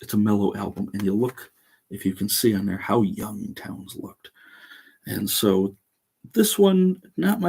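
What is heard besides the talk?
No everyday noise stands out behind the speech.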